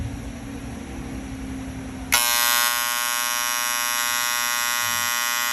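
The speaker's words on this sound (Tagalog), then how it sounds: "Kasi ang sinet kong alarm, yan na." A programmable digital timer sets off its alarm, a loud continuous electronic buzz that switches on suddenly partway through, following quieter low background hum and running steadily to the end.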